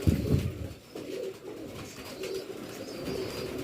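Pigeons coo softly on a rooftop, low burbling calls that repeat close by under a faint background hum.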